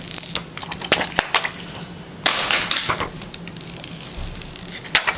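Crinkly plastic film peeled from a new iPhone XS, a close series of short crackling rips and taps with one louder tearing burst in the middle and a sharp snap near the end.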